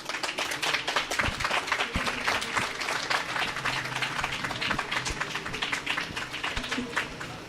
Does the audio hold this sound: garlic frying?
no